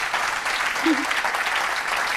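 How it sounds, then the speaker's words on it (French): Conference audience applauding to welcome speaker Oristelle Marx, a brief, steady patter of many hands clapping at an even level throughout. "allez, on l'applaudit plus fort"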